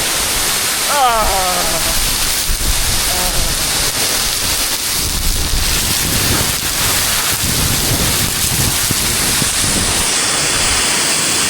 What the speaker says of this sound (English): They have the waterfall over there.